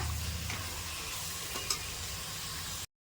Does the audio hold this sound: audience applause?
no